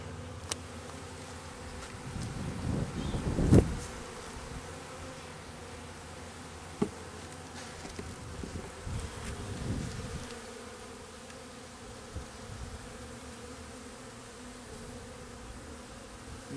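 Honey bees from a colony with a two-year-old queen, started on two frames, drone steadily around an open hive, with louder buzzing passes close by and no speech.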